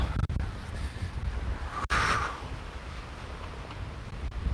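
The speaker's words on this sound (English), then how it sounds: "Oh, I just hate it when it's really, really windy on these walks." Wind buffets a microphone during an outdoor walk, a faint, steady low rumble broken by a couple of sharp clicks and a brief gust swell.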